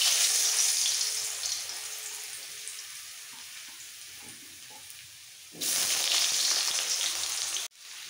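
Potato pieces drop into hot oil in a wok and fry with a bright, even sizzle that fades slightly, then flares loud again near the end before cutting off sharply.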